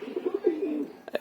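Pigeons coo close by in a quick run of soft, throaty, rhythmic coos lasting about a second, ending with a couple of sharper notes.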